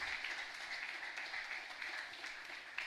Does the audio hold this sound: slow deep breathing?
no